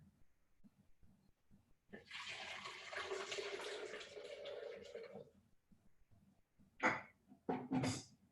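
Hot water poured from a measuring cup into a blender, a steady broadband splashing pour of a few seconds, followed by a couple of short louder clunks or splashes near the end.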